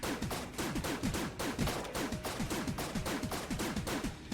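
A hegemony rifle firing in the video game Enter the Gungeon, a steady rapid stream of evenly spaced shots at moderate volume, sounding alone without talk.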